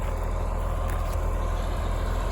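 Tractor engine idling on a hay-cutting job, a steady low diesel rumble with even throbbing, continuous and close, no voices over it.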